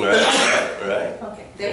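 A sharp sneeze bursts out at the start, then someone speaks briefly and casually right after it.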